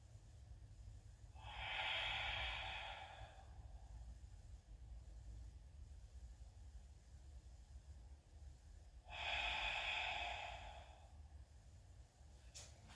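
Two slow, breathy exhalations during a yoga hip stretch, each lasting about two seconds, separated by a long quiet pause over a low steady room hum; close and fairly soft, with no talking.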